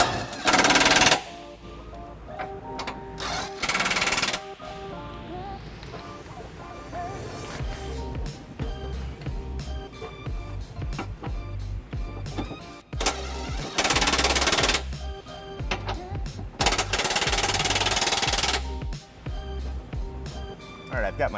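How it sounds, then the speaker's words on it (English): An impact wrench fires in several loud, sharp rattling bursts while snugging trailer hitch bolts on a 2018 Dodge Durango, with clinks of tools and metal parts between the bursts. "we're going to snug them up with the impact prior to giving them a final torquing"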